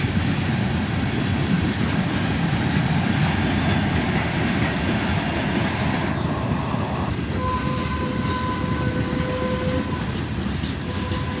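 Long freight manifest train rolling past at close range, a steady loud rumble and wheel clatter throughout, with a horn sounding in the distance partway through.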